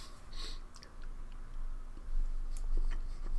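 Quiet, close chewing of a crunchy, dry, grainy MRE item with crystallized sugar, soft crunching and crackling bites, irregular and intermittent, no talking.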